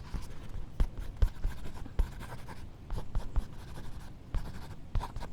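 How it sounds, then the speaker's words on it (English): Pen or pencil strokes drawing on paper in a close-up ASMR roleplay, soft scratchy marks in short irregular bursts with small pauses, intimate and quiet with no talking. "I'm gonna draw your iris and your pupils."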